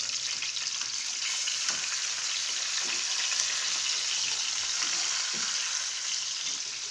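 Pork chops sizzle in a hot pan after being flipped, a dense, even crackle of frying fat, close and steady with a few soft clicks and no talking.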